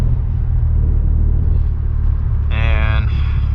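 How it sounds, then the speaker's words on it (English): A Kia car driving at about 30 mph, a steady close low road rumble and engine drone throughout, with a voice briefly sounding near the end. "we're doing like 30 miles an hour"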